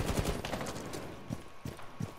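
Sharp gunshots crack in the Rainbow Six Siege video game, a quick volley at the start and then several separate, spaced shots, moderately loud with no talking over them.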